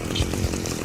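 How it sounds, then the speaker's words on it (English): A chainsaw in the horror video game Manhunt gives a loud, rough buzzing snarl with a couple of low pulsing surges over a brief moment. "He then drives a chainsaw into his face"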